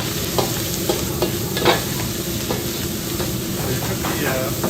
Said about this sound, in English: You add the chili to the oil, and then you add the meat.